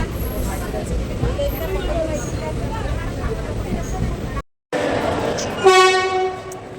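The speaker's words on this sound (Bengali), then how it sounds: "এই যে আমাদের এক্সপ্রেস ট্রেন চলে যাচ্ছে" An express train rumbles past steadily and loudly, a brief dropout, then a horn sounds near the end.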